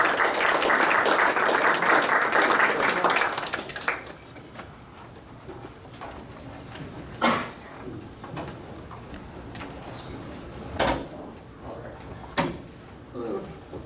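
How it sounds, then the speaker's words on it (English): Audience applause at a tech presentation, a dense burst of clapping for about four seconds that fades out, followed by a quiet room with a few scattered knocks and thumps. "So I want you to give them a round of applause."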